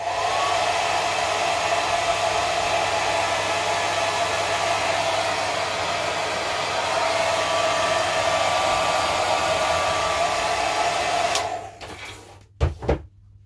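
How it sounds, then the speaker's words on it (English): A hair dryer set on hot blows with a steady, loud whoosh and motor whine for about eleven seconds, then switches off, followed by a few sharp knocks and clatters. "I'll just use my hairdryer for now because that's what's plugged in on hot."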